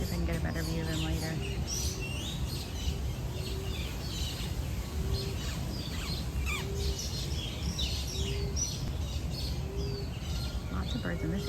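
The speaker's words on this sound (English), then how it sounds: "Lots of birds in this area. They're pretty active," Many birds chirp and call in a wooded area of Animal Kingdom park at dusk, with high tweets scattered throughout and a repeated short call at regular intervals, all over a constant outdoor murmur.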